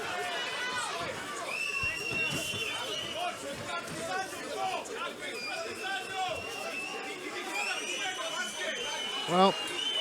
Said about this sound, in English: the crowd uproarious in their disapproval